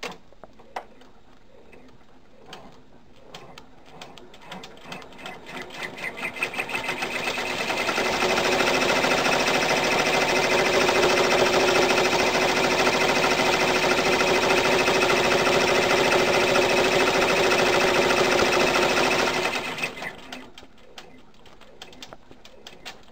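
A sewing machine stitches a muzzle tack on a Rudolph stuffie, starting with scattered ticks, then whirring rapidly and steadily for about twelve seconds before winding down to clicks.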